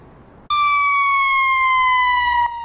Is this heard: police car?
yes